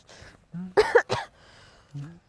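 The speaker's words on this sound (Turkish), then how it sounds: "Niye öksürüyorsun?" A person close by gives a couple of harsh, rasping coughs in quick succession, with short voiced throat sounds just before and after them.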